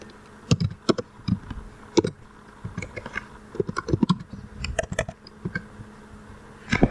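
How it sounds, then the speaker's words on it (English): A store name is typed on a computer keyboard in an irregular run of close, crisp key clicks and taps with short pauses, no voices. "as you going to type your name here"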